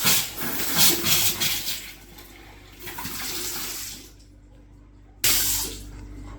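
Water pours from a tap in a house being renovated on a farm, a loud rushing stream that eases off and cuts out, then gushes again in a sudden burst near the end.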